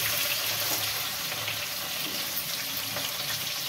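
Cumin seeds and onions hit hot oil in a pan while veg biryani is being started, producing a dense, even hiss of frying that holds steady and fairly loud throughout with no talking.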